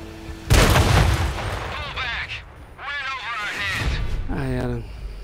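A tank cannon booms in the World of Tanks game, an American T29 firing a shot that misses, with a sharp loud blast and rumbling explosion followed by rolling gunfire-like booms while someone talks over it.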